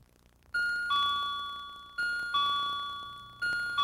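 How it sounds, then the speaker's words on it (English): A bright electronic ding-dong chime rings three times, each two-tone pair fading slowly, clear and close against a quiet background. "A chime sounds either at the device or at one that you wire to it"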